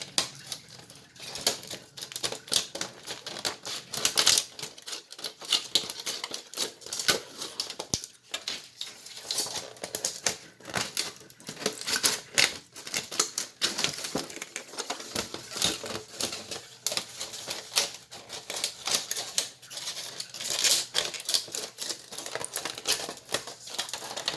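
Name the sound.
cutting metal cookie sheet petals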